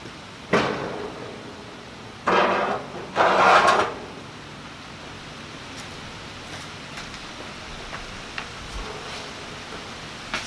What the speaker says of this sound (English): we're going to slide the grease cup into the mounting bracket